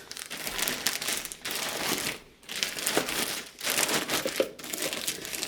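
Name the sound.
bags being packed, crinkling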